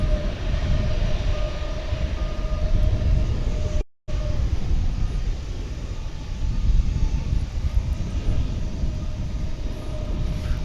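Aircraft at DFW International Airport, a 1990-built airliner among older planes, gives a steady broadband roar that holds loud and even throughout, with a brief dropout near the middle and no talk.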